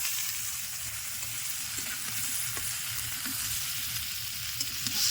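Turmeric, ginger-garlic and cumin pastes fry in a pan in a village kitchen, giving a steady crackling sizzle with faint stirring scrapes now and then, heard close with no talking.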